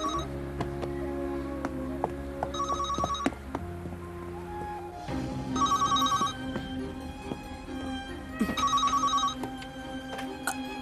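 A telephone rings in repeated electronic trill bursts indoors, steady and fairly loud over a low background hum, with no talking.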